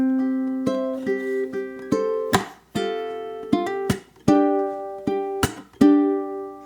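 Ukulele plays the chord riff of a song, a close, solo series of crisp strummed stabs and sustained chords moving through changes in a steady rhythm.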